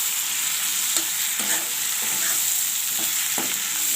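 Pumpkin greens and katla fish head fry steadily in a pan, with a continuous loud sizzle and a few scraping stirs of the spatula and no voices.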